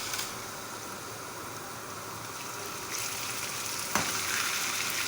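Boiled moong dal dropped into hot oil spiced with cinnamon sticks and white cumin, giving a steady broadband sizzle that grows a little louder partway through, with a brief sharp clatter near the end. No talking.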